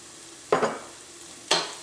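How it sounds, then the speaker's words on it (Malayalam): Turmeric powder sizzling in hot coconut oil with sautéed garlic for a tomato curry, in two short bursts of frying hiss about a second apart as the pan is stirred, close and moderately loud. "ഈ മഞ്ഞൾപ്പൊടിയും എണ്ണയിൽ കിടന്ന് ഇനി നന്നായിട്ടൊന്ന് മുരിയണം"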